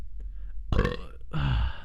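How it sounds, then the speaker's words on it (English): A close, loud human burp in two drawn-out voiced belches, the second longer and deeper, after a brief quiet breath. "I gotta burp"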